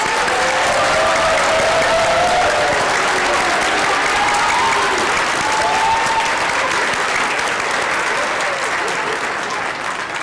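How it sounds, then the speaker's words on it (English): Loud, sustained applause from a large crowd at a D.A.R.E. graduation ceremony, dense clapping filling the whole stretch without letting up. "give one more great round of applause to our amazing D.A.R.E graduates"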